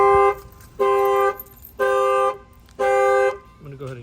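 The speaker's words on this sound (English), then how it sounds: "I'm going to go ahead and bang in this glass here now. It's going to set off the alarm." A Buick Enclave's factory alarm, set off by its shock sensor, blasts four loud, evenly spaced horn honks about a second apart, followed by a brief faint voice at the end.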